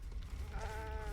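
A sheep in Baldur's Gate III lets out a wheezy bleat that rises in the second half of a short stretch, heard alone over a low rumbling background.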